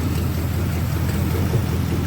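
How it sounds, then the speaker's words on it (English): A 1969 Ford Mustang with a 302 V8 running, a loud, steady, rough engine rumble with broadband roar, heard close and continuous with no speech. "You can see the motors running"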